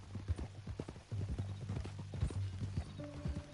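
Horse hooves clip-clop in Red Dead Redemption 2, a quick uneven series of close, hollow thuds over a low rumble, with a short tonal sound near the end.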